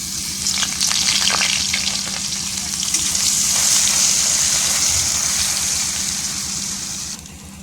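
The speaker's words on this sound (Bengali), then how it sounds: "ফোড়নটা তো ভালো করে ভাজা হয়ে গেছে" Spices and ginger paste sizzle and fry in hot oil during home cooking of a mixed vegetable dish, a steady loud crackling hiss with bursts of spattering throughout, no voices.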